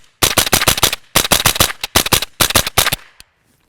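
A suppressed rimfire rifle fires CCI Mini Mag ammunition in rapid strings of sharp, close cracks, several quick bursts of three to five shots with short pauses between them, ending abruptly when the magazine empties.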